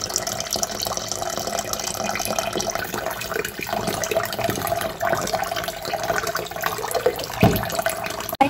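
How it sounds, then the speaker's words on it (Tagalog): Glutinous rice is rinsed under a running tap, a constant close rush of water with sloshing and soft grain-stirring sounds and a few small knocks. "hugasan po muna natin itong ating malagkit na bigas"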